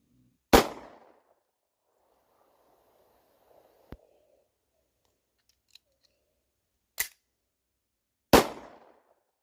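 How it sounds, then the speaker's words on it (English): A Beretta 92FS 9mm pistol fires three sharp, loud shots at irregular intervals, each with a short decaying tail, with a fainter snap between them. Quiet stretches separate the shots and no one speaks. "I'm gonna pull the trigger at the same time"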